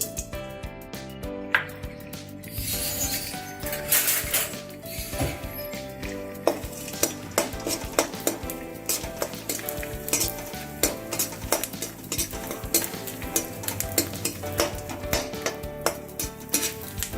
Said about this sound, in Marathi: आता आपण डिंक तळून घेणार आहोत.